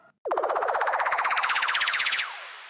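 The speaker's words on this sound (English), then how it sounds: "We'll get out of the building for the alarm" A building alarm sounds after a brief silence, a loud close electronic siren with a rapid warbling pulse that holds steady for about two seconds, then cuts off and leaves a fading tail.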